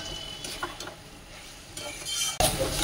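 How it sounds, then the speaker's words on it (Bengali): Spiced potatoes are sautéed in a pan, with soft stirring and a low sizzle, then a louder burst of frying and scraping near the end, all close by with no talk. "এখানে আলুর সঙ্গে ভালো করে একটু আরো কষে নেব।"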